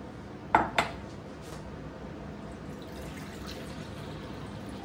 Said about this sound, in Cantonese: 倒佢落去個煲度